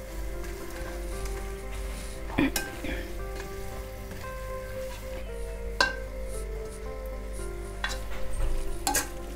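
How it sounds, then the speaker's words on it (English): A spoon stirring moringa leaf dal with salt in a pan over a low sizzle, with a few distinct scraping clinks against the pan amid a steady hum. "just we'll mix it"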